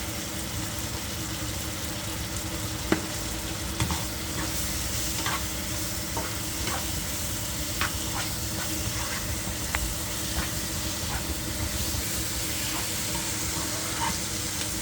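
Chicken curry with curry powder cooks in a pan, sending up a continuous steady sizzle and frying hiss with occasional faint clicks of stirring, fairly quiet and unbroken, with no talk.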